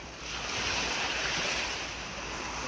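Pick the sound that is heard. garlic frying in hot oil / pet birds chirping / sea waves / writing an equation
sea waves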